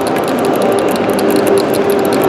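An OTIS Gen2 machine-room-less elevator runs with a steady, loud mechanical drone and a fast repeating ratchet-like ticking throughout, no voices.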